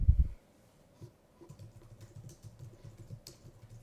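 Someone types names on a computer keyboard, producing soft, quiet key taps in a quick irregular patter after a brief louder knock at the start.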